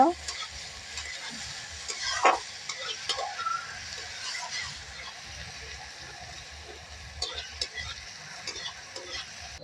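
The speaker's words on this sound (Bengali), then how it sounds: "পেঁয়াজটাকে লাল লাল করে ভেজে নেব।" Finely chopped onions frying in oil in a pan for dal puri filling, a steady close crackling sizzle with occasional stirring scrapes throughout, no talking.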